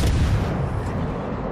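Heavy naval gunfire in World of Warships: Legends, a dense rumbling barrage of deep booms that fills the whole stretch loud and close, with no talk over it.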